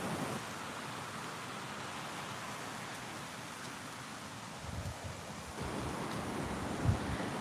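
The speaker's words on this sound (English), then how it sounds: "the river down here, that's Obed River" Steady broadband rush of the Obed River flowing in Middle Tennessee, a continuous wash of water heard close and alone, with a few faint low bumps near the end.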